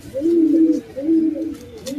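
A male racing pigeon coos close by while being held and shown, giving two or three soft, rounded, low coos in a rhythmic run, with faint handling noise behind them.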